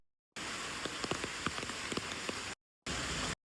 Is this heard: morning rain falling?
yes